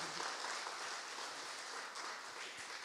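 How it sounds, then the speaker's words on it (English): Scattered applause from a crowd, moderately distant, a dense patter of clapping that holds steady for a few seconds. "Clap for them."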